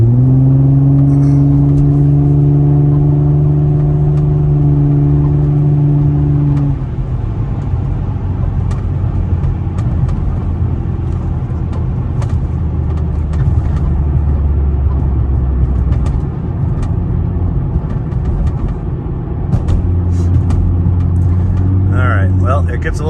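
A 2007 Infiniti G35 Coupe rolls through city traffic, its steady engine drone and road rumble continuous and close, with a tonal engine hum shifting partway through as the car changes pace.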